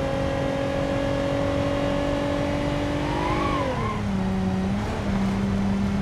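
A slow Bruckell LeGran van's engine drones steadily through a lap, a smooth sustained hum that dips in pitch as it eases off, then settles lower; loud, close and alone.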